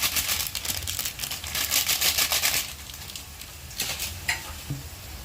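Raw mango methamba cooking with salt, turmeric, red chilli and jaggery sizzles and crackles as it is stirred in the pan, bright and busy at first and then quieter, close by with no one talking.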